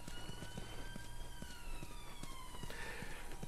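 A siren wails outside during a Last of Us game session, its tone gliding slowly downward as it passes, steady and moderately loud over a patter of rain-like noise.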